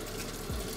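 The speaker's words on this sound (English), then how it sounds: "And then you can add some cold water in there just to cool it all down." Cold water gushes from a tap into an old pan holding a synthetic wig during dyeing, a steady close rush with a brief low splash partway through.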